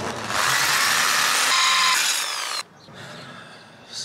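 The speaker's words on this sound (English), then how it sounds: "going straight in with this 7mm drill bit" A power drill with a 7mm bit bores a hole into a custom lowrider's frame, whining loudly at a steady pitch for about two and a half seconds, then stopping abruptly, leaving a quieter rattle afterward.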